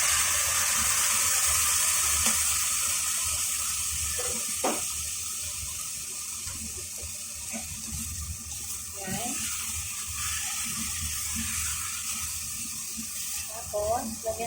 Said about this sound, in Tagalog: Tapos, lagyan natin ang tubig.